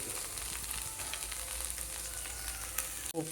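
Kanda poha, a dish of flattened rice with onion, frying in a pan and giving off a steady close hissing sizzle that goes on without a break, with a faint clunk near the end.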